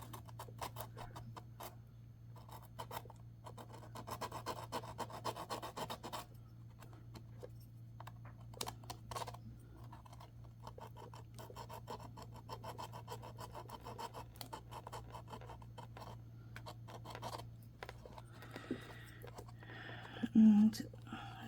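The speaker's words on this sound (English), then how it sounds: "I hate sanding" Repeated rasping strokes of sanding on a resin wedding tray set with gold flakes and 3D stickers. The strokes are soft and come in bursts, with a steady low hum underneath and a few quiet pauses between passes.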